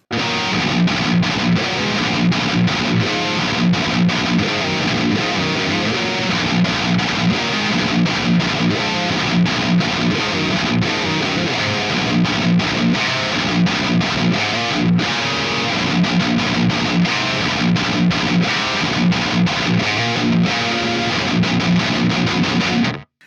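An EVH 5150III 50W amp on its red channel at the lowest gain setting pushes out a tight, chunky high-gain metal guitar tone, loud and dense with palm-muted chugging riffs played continuously without any voices.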